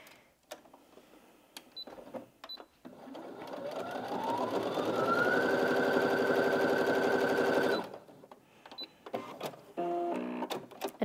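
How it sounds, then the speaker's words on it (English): A Brother Innov-is A150 sewing machine fitted with a jeans needle straight-stitches through denim, its motor whirring up to a steady rapid hum for several seconds before stopping, with handling clicks and rustles before and after. "So I've popped a jeans needle on the machine, and I'm going to go back to a standard straight stitch."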